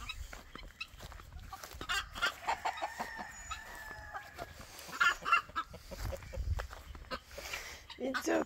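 Hen clucking softly while sitting on her chicks in a coop, low intermittent clucks and chirps close by, with people talking over them.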